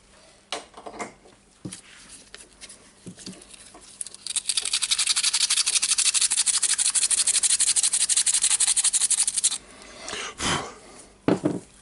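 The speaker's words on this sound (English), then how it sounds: "Okay, it's hard to cut it, I will sand it." Sanding down a part of a Milwaukee M18 FIW2F12 compact impact wrench during repair, a steady loud rasping scrape lasting about five seconds, framed by scattered handling clicks and knocks before and after.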